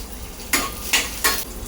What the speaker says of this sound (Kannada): ಎಣ್ಣೆ ಕಾದಿದೆ, ಅದಕ್ಕೆ ನಾನು ಸ್ವಲ್ಪ ಬೆಳ್ಳುಳ್ಳಿ ಹಾಕ್ಕೊಳ್ತಾ ಇದ್ದೀನಿ ಒಗ್ಗರಣೆಗೆ